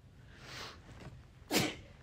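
A single sharp sneeze bursts out loudly near the end after a quieter breathy inhale and soft background noise, close to the listener during a casual indoor livestream.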